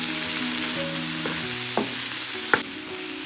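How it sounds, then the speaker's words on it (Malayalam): Spiced masala sautéing and being stirred in a pan for Karnataka-style sambar chicken, with a steady close sizzle and a few sharper scrapes of the spoon against the pan. "ഈ മസാല എല്ലാം കൂടി നമുക്ക് ഇതിനകത്ത് ഇളക്കി നന്നായിട്ടൊന്ന് വഴറ്റിയെടുക്കാം"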